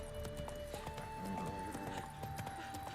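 Roach, a horse in The Witcher 3, galloping, with quick rhythmic hoof clip-clops and a faint whinny over a steady background of in-game music.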